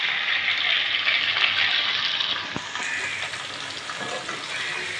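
A ground paste of ginger, garlic, onion and green chili hits a pan of browned chicken with a loud, steady hissing sizzle up close, easing slightly after a few seconds, with no talk.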